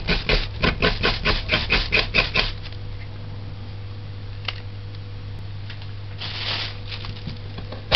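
A run of about a dozen quick, evenly spaced knife chops on a cutting board as carrot ends are cut off, then a quiet hum with a few faint clicks.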